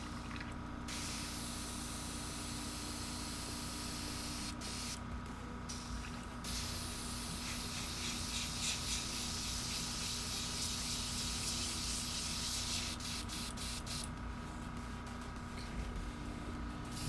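An airbrush being cleaned out sprays in steady hissing bursts, with short pauses between blasts, close and fairly loud with no voices.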